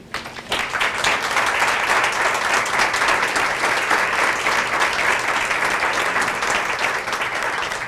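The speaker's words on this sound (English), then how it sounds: "we're going to give you a round of applause" An audience gives a sustained round of applause for young program participants at a youth commencement ceremony, dense clapping that starts abruptly and stays loud and steady throughout.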